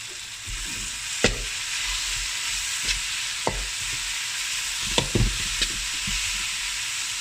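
Ginger garlic paste frying with golden brown onions in a pan for South Indian chicken gravy, a steady close sizzle broken by occasional spoon scrapes and stirring knocks, with no one speaking.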